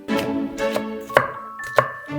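A knife chopping tomatoes finely on a cutting board, a few separate sharp strikes at an uneven pace over a soft tonal background.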